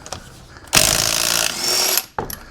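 An impact gun fitted with an extension works on car wheel nuts, giving a short close mechanical whir followed by a sustained loud rattling burst of about one second, then a brief clatter.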